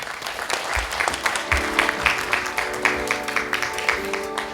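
An audience at a Korean government AI business briefing claps to welcome a presenter, a moderate, steady round of applause with a low rumble and faint murmuring beneath.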